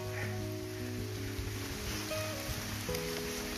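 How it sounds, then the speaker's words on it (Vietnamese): Rain falls steadily through a primeval forest at Laan Resort near Dalat, a continuous soft hiss of drops on leaves with a faint tonal background underneath and no speech. "Các bạn nghe thấy tiếng mưa rừng không?"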